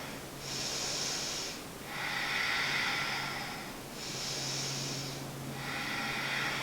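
Deep yoga breathing, slow and close: two long hissing inhale-exhale cycles, each inhale and exhale lasting over a second, loud and airy with brief pauses between and no talk.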